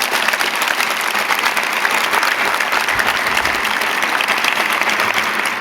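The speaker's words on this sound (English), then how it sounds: "Let's give them another round of applause" Dense, loud applause from a summit audience for the Slammin' Poets, a continuous roar of many hands clapping without pause throughout.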